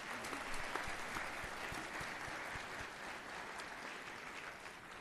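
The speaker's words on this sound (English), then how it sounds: "Can we give them a round of applause for their selections?" Audience applause at a school of music convocation, a full burst of many people clapping that starts strong and gradually thins out over a few seconds, heard from within the hall.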